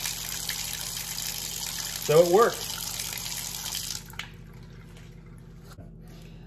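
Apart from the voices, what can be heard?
sink draining water after unclogging drain with air blaster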